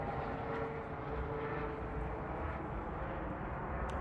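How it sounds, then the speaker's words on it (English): Helicopters flying overhead give a faint, steady engine drone and rumble that holds evenly throughout, with no other sounds standing out. "We got helicopters out here."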